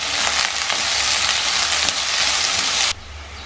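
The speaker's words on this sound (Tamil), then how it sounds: "போட்டு நல்லா வெங்காயம் கரையிற வரைக்கும் வதக்கிக்கோங்க" Steady loud sizzling of onions frying in a pan for a fish head curry, with a couple of stirring scrapes, cutting off abruptly near the end.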